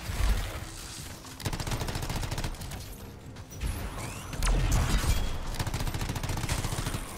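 Light machine gun fire in the sci-fi shooter Anthem: rapid, sustained automatic bursts with dense rattling shots, close and loud, broken by short pauses and mixed with mechanical clatter.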